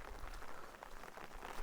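Steady rain falling on a muddy path at a hill station in the monsoon, a faint, even hiss of drops with no break and no voices.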